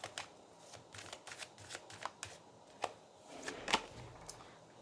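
A deck of tarot cards is shuffled by hand at close range, giving a quick run of crisp riffling snaps and soft slides that repeat irregularly for several seconds. The sound is fairly quiet, and no one talks.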